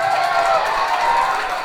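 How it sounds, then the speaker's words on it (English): Children in a Parents Day crowd clapping and cheering for their parents, a dense, continuous wash of applause and excited voices that stays loud throughout. "First the children can give a big round of applause to your parents"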